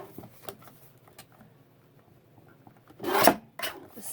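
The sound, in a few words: trimming the sides of book page paper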